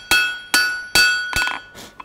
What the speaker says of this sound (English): rotate that piece, hammering in the same spot, and working the piece of steel underneath my hammer